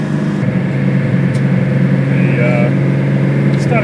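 A Nissan L30 straight-six engine with triple 44PHH carburetors, held at about 3000 RPM while the car climbs a hill, gives a steady, loud droning hum inside the car without changes in pitch.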